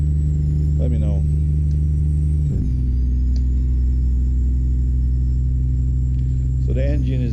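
Steady low diesel rumble of a truck engine in American Truck Simulator, constant and close underneath, with someone speaking briefly over it at a few points.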